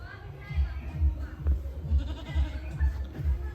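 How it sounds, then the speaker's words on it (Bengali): Two young local castrated goats bleat repeatedly in short, low, rhythmic calls about every half second, close by, with faint background noise. "দুই দাঁতের দুইটা দেশি খাসি ছাগল।"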